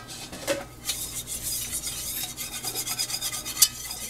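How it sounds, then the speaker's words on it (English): A spoon scrapes and stirs an Alfredo sauce base of butter and flour in a pan, with steady rhythmic rubbing and clinking against the metal, close up and moderately loud. "keep it moving because it'll go from nice and blonde to burnt in no time"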